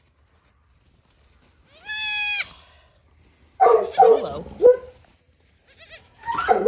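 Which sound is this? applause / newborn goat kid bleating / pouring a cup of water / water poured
newborn goat kid bleating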